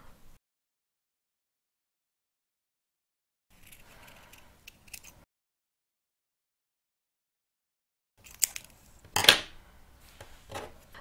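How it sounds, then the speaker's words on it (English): Scissors snip through a small 20 mm felt circle for the back of a felt rose brooch, a few short crisp cuts close by after a quiet stretch, with no talking. "So now we cut the 20 millimeters circle to cover the back of the flower."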